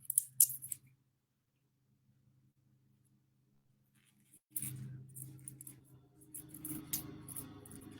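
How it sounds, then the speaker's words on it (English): A few crisp snips of scissors sound close at the start, then after a quiet stretch, more cutting and rustling handling noises follow. "I'm gonna use my scissors."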